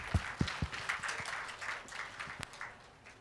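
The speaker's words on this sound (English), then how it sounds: "Give him a big round of applause" Scattered, thin clapping from a small group at a personality development session, a few sharp individual claps standing out near the start and again later, fairly faint.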